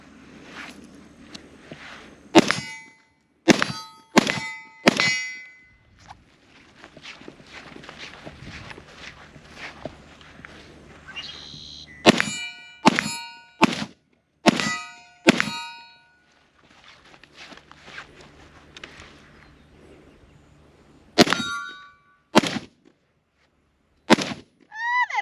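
AK-74 rifle shots ring a swinging steel target outdoors, heard as sharp cracks each followed by a metallic clang, arriving in irregular bursts separated by quieter gaps with faint movement sounds.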